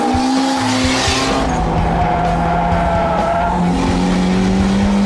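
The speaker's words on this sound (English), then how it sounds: "The supercharger starts to spool up, and as soon as you get in a straight line and you're full throttle" A Honda S2000 with a centrifugal supercharger runs at full throttle on track, its engine droning loudly up close as the tires squeal and a rising supercharger whine sits on top; a voice speaks briefly.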